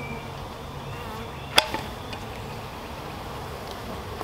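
Honey bees from a package being installed into a hive give off a steady, low buzzing hum, broken by one sharp tap on the package and a fainter knock after it.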